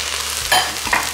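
Chopped celery, red capsicum, zucchini, carrots and garlic sauté in a Philips Premium All-in-One cooker, a steady close sizzle broken by two scraping stirs.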